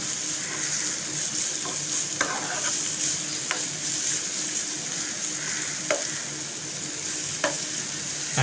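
Onions brown in a hot pan with a steady, close sizzle, broken by several sharp scraping stirs while cooking for achari methi baingan.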